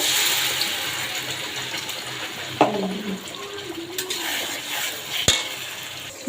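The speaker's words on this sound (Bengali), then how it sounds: "এখানে একটু তেল দিয়ে দিব আর দিয়ে দিব আমার মশলা ব্যালেন করা যেটা সব সবটুকু দিয়ে দিব" Ground spice paste frying in oil in a pan for Bengali hilsa and eggplant paturi, a soft steady sizzle with occasional sharp clinks and scrapes of stirring.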